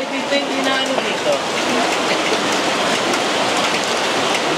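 Heavy rain pours steadily and loudly outdoors at Villa Escudero in Tiaong, Quezon, a dense constant hiss with no breaks.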